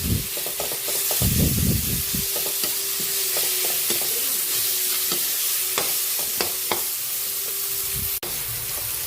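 Ground pork sizzles loudly in a hot pan while a utensil scrapes and stirs it in uneven clacks and knocks, all close up over a constant frying hiss, with no voices.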